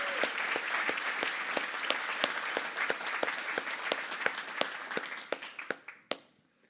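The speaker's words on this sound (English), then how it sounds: "Round of applause for Brandon." A corporate event audience gives Brandon a round of applause, with a fairly distant crowd clapping steadily, sharp individual claps standing out, before it thins and fades to quiet.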